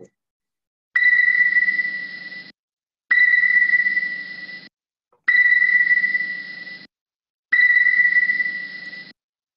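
Sonar-style pings like those in submarine films: four long, tonal electronic beeps, each ringing about a second and a half and fading slightly, separated by short silences, clean and prominent with no talk.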